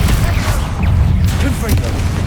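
Confringo blast spell explosions in the video game Hogwarts Legacy, heavy booming bursts over a loud rumbling battle bed, with a voice calling out briefly.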